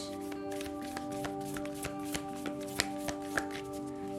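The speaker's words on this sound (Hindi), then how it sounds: "तो हम इस डेक को अब शफल करेंगे।" A tarot card deck is shuffled by hand up close, giving a steady riffling patter with a few sharper taps of cards knocking together.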